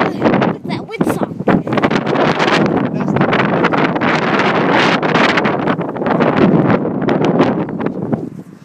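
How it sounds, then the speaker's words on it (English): Heavy wind buffets a microphone outdoors during a windy landing of an E-flite F-4 RC jet, a loud continuous roar with gusty swells throughout, while people talk over it. "Darn it, wind!"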